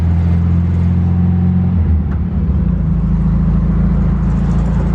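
A 1972 Volkswagen Thing rolls along at about 20 mph. Its engine gives a loud, steady low rumble from close by, with a slight change in pitch partway through and no voices.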